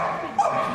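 A large dog named Troy barks during an agility run at Crufts, a single short bark heard over the noise of a busy arena.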